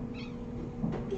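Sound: Siamese cat meowing

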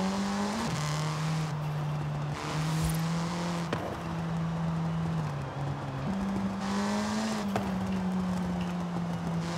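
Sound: MG6 XPOWER car engine in video game Forza Horizon 5

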